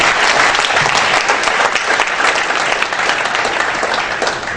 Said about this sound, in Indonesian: Kita berikan tepuk tangan kepada 3 pembicara.